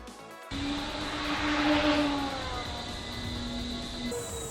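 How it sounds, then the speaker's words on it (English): Twin-engine E-flite EC-1500 radio-controlled plane flying overhead, a steady electric motor drone with a shifting whine that swells briefly in the middle, no voices. "you can see the inboard flaps stabilizing the plane as I throw it into those maneuvers"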